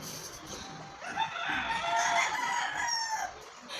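A rooster crows nearby, a single drawn-out call rising in the middle, with chickens faintly clucking around it.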